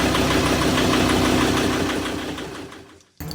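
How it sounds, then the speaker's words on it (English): A boat engine idles close by, a steady, loud rumbling knock that gradually fades and then cuts off abruptly near the end, with no talking. "On our second attempt of turning on the engine, there was another surprise."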